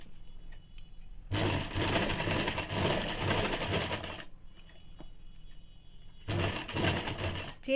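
Two bursts of sewing machine stitching on a ladies' pant pocket, a roughly three-second run, a pause with faint handling, then a shorter run, close and moderately loud with no speech.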